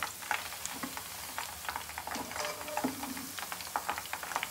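Meal maker soya chunks frying in oil in a pan, a faint, uneven crackle with scattered sharp pops.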